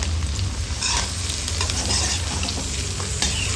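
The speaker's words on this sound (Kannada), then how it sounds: "ಒಂದು ಕ್ಯಾಪ್ಸಿಕಮ್ನ ಈ ರೀತಿಯಲ್ಲಿ ಕಟ್ ಮಾಡಿ ಹಾಕೊಳ್ತಾ ಇದ್ದೀನಿ" Cut capsicum and onion stir-fry for Coorg-style chilli pork, making a loud, dense sizzle with constant scraping and tossing close by.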